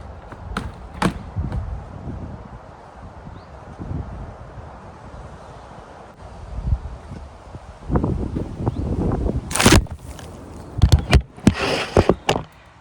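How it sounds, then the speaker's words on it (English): Strong gusts buffet the microphone in uneven bursts in a vegetable garden, with rumbling wind noise and occasional sharp knocks and rustles, loud and close. "it's super windy today"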